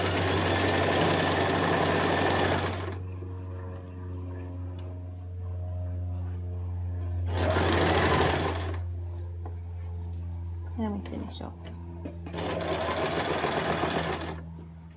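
Three separate bursts of a sewing machine stitching a ruffle skirt seam, each a few seconds of rapid close buzzing, with someone talking in the quieter gaps between them.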